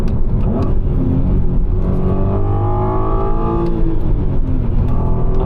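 An Audi TT Mk2 with a 3.2 VR6 engine accelerating from inside the car, a steady loud engine note rising in pitch through a short second gear, without any talking.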